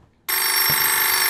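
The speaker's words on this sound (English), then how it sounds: "So the phone rings and I can't even answer it." A telephone in a horror video game bursts into a loud, sustained electronic ring after a brief silence, a bright steady tone that continues to the end.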